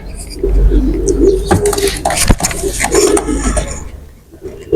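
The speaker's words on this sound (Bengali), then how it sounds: "টেরি কবুতর জোড়া দেখুন" Teddy pigeons coo in soft, repeated rolling calls close by, a low throaty murmur that runs steadily through the scene with a few brief rustles and chirps around it.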